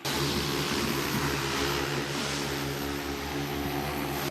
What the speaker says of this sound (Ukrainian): мліють від одного лише звуку, коли бомбер наближається до їхніх окопів